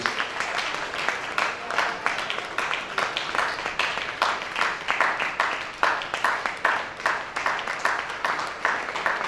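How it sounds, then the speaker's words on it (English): An audience applauds the Southwest district chairmen and organizing committee members at a tax revenue forum, a steady, dense patter of many hands clapping that carries on evenly for the full stretch, fairly close and moderately loud. "Can we give them a round of applause,"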